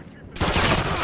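A gun fired in a video game: a short, loud blast of gunfire that bursts in after a brief quiet moment and holds for under a second.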